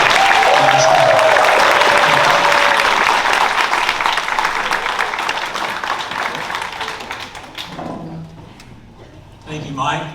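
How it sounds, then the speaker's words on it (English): Audience applause for Tristan Hurd at the 2024 TWA Athletic Hall of Fame recognition event: a dense wash of clapping from a crowd that swells briefly, then thins and fades out near the end. "Would you please give another round of applause for Tristan Hurd?"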